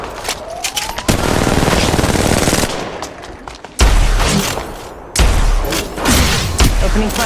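Gunfire in the battle royale game Apex Legends, several loud sustained bursts of rapid automatic shots broken by short pauses, with heavy thumping impacts at the start of later bursts.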